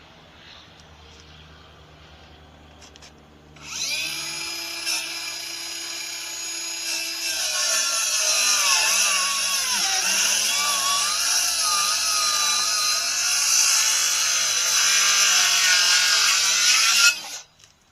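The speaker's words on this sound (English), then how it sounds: "because of where this is, we're going to make a plunge cut on this." Power saw plunge-cutting into a wooden gate while a mailbox replaces it: quiet motor hum at first, then a loud whining spin-up that grinds steadily for about thirteen seconds before stopping abruptly.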